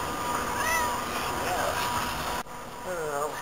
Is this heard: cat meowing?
yes